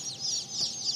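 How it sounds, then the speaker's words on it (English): A barred Old English Game Bantam chicken clucks and chatters in a few soft, overlapping bursts, close by and alone with no talk. "This is the barred Old English Bantam."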